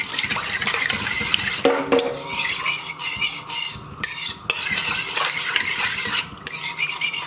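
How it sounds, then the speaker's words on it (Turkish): A spoon stirs a yeast, sugar and water mixture in a bowl for pastry dough, giving steady close scraping and clinking with a few short pauses, and no voices. "Şöyle bir yemek kaşığı da şeker ekleyip karıştırıyorum."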